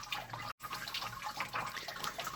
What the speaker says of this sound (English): The water's coming in quicker than the wort can drain.